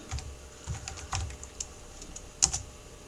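Someone types steadily on a computer keyboard while entering sample text in Adobe Illustrator, with quick close key clicks, a couple of sharper strikes, and a soft background hiss.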